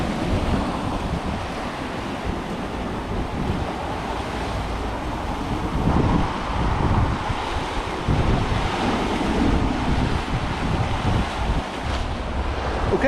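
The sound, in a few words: sea waves on the Torbay coast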